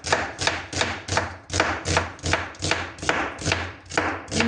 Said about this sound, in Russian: Режу лук.